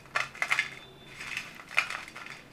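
Dry roasted tamarind crackles and rattles in a few short bursts, brittle pieces shaken and rubbed in the hand, close and fairly quiet.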